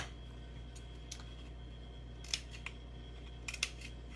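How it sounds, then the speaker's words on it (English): Scissors cutting a cardboard toilet paper roll, a few faint snips and clicks scattered over a low steady background hum. "you're going to take this, you're going to cut it in half"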